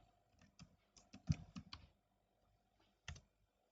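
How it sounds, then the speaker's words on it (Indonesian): Text typed on a computer keyboard: a quick cluster of soft, close key clicks, then a pause and a single final tap, with no talking. "Tinggal ketikkan untuk yang merah dulu teman-teman ya."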